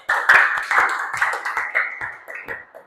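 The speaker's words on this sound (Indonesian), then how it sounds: "Tepuk tangan sekali lagi untuk kita semua." A class group claps together during a religious education lesson, a dense, fairly loud patter of hands that comes in uneven surges and slowly fades toward the end.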